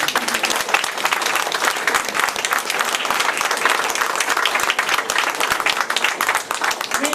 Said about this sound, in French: Donc encore on peut applaudir Marie-France très fort.